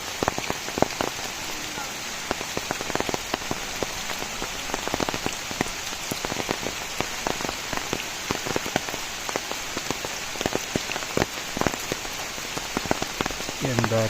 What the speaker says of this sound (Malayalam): എന്താണേലും മഴ തോരുന്ന ലക്ഷണമൊന്നുമില്ല, കൂടിക്കൂടി വരികയാണ്.